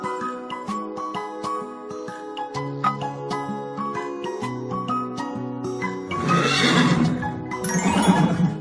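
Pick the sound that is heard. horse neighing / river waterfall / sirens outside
horse neighing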